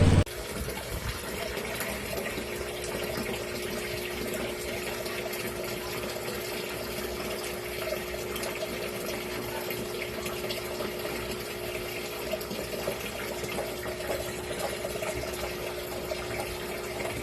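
Water is pumped into a concrete fish pond holding African catfish, a steady loud rushing gush that continues unbroken the whole time.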